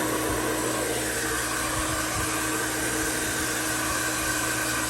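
A blower dryer roars steadily at close range over a freshly bathed shih tzu puppy, a continuous loud airy whoosh with no voices heard.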